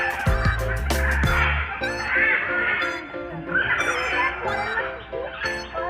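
A peacock calls with loud, honking cries at Alipore zoo, repeated several times among other bird noises and background zoo sounds.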